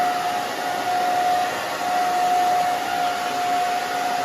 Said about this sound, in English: So obviously the back we're just gonna dry down.